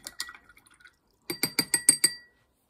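A watercolour paintbrush is rinsed in a glass of water, giving a quick run of light clinks and swishes, a short pause, then six evenly spaced, louder taps of the brush against the glass, close and clear.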